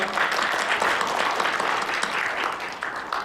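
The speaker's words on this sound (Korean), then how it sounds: "큰 박수로 맞이해 주십시오" An audience at a symposium applauds with steady, dense clapping that holds an even level throughout.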